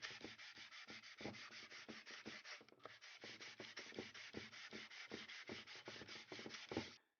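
Sanding the bolted-together dirt bike engine cases flat along the gasket surface by hand, a quick steady run of close, even rasping back-and-forth strokes, alone and fairly faint.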